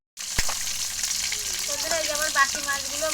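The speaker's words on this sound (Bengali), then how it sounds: "এবারে আমি আগের মাছের মতো এই বাকি মাছগুলো আমি ভেজে নেবো" Pieces of pangas fish fry in hot oil, giving a steady, close sizzle and crackle throughout, with a sharp pop near the start and a faint voice in the background.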